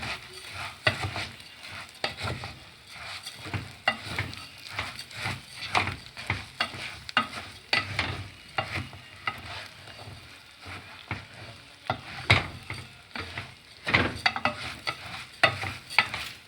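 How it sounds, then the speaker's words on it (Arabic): Lisan asfour pasta being stirred as it fries in ghee, with a constant sizzle beneath rhythmic scraping and stirring strokes that recur every second or so, close and fairly loud. "جامده واحنا بنقلبه عشان خاطر يتمزج كله في السمنه"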